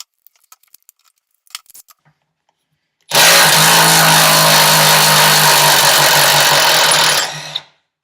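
An old Milwaukee Stubby Fuel 3/8 impact wrench hammers out a bolt in one loud, sustained burst of about four seconds, rattling steadily before cutting off, after a few faint clicks and handling noises.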